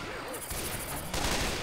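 Mounted machine gun in the Left 4 Dead 2 game fires in dense sustained bursts, loud and continuous, with a brief shift midway and a short voice fragment mixed in.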